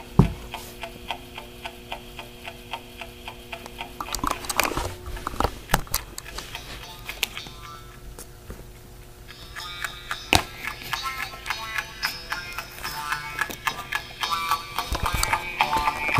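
A homemade Rodin coil speaker plays audio at modest volume, its output thin and ticking, with sharp clicks and brief bursts scattered through a steady faint hum and busier, brighter passages toward the end.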